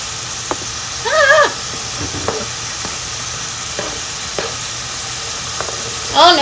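Steady sizzle of vegetables frying as they go into a pot of homemade hamburger helper, a continuous hiss broken by a few stirring scrapes and clinks.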